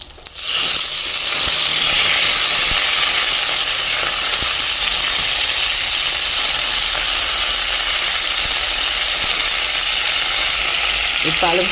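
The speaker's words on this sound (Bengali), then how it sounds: "কিছু পালং শাক দেবো গোটা গোটা" Whole spinach leaves dropped into hot oil with aubergine give off a loud, steady sizzle and hiss that fills the pan, with a few faint clinks of stirring near the end.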